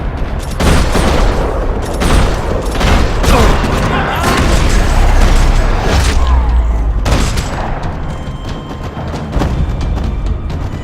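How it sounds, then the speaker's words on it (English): Loud gunfire in a parking lot in Max Payne 3 crackles in quick bursts, punctuated by deep booms and thuds, with a voice faintly mixed into the barrage. "Another parking lot rattling with gunfire."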